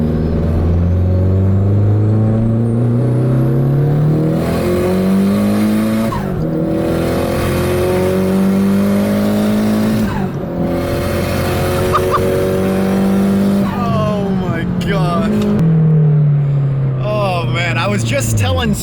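A Nissan S15 with a turbo engine, driven on the road, gives a loud, steady engine drone whose pitch rises and falls through the gears with turbo whistle and spool, while people talk over it.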